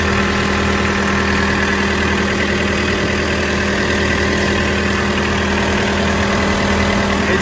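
A 2020 John Deere 317G skid steer idles steadily nearby, its engine giving a constant, even hum with a low throb and no change in pace.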